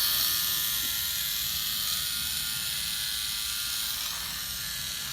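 Moving parts of a K'nex V6 supercharged engine model running: a steady, close, buzzy plastic whir with faint ticking that holds evenly and eases slightly at the end.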